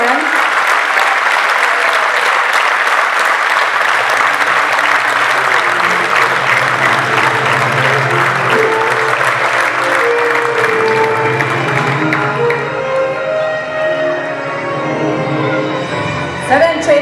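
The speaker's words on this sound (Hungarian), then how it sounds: "Nagy tapsot kérdem, Maki!" An audience at a children's dance group's Mary Poppins stage show applauds loudly and steadily for the whole stretch, with the clapping easing a little near the end. Cheering and calling voices mix in throughout.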